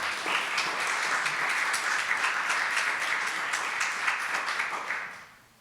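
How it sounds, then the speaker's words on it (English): A university homecoming audience gives presenters of a COVID-19 impacts session a round of applause, a steady, even clapping that carries on for several seconds before fading out quickly at the end. "So a big round of applause,"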